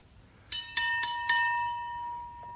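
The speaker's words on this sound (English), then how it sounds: "Any opportunity to ring the bell?" A bell rung four times in quick succession, each bright metallic strike ringing out and decaying into a long sustained tone, loud and close on a quiet sunny outdoor day.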